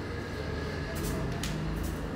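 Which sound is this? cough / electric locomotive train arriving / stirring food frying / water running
electric locomotive train arriving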